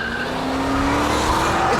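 A Ford Shelby GT500 drifts with a sustained, loud tire squeal that rises steadily in pitch over a continuous engine roar, heard alone without voices.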